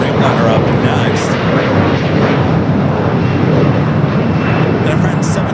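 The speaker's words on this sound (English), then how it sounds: "Cathay now making its way down for Southside and takeoff." A Cathay Pacific airliner takes off at LAX with a loud, sustained jet roar that fills the air steadily, and a voice speaks over the engine noise.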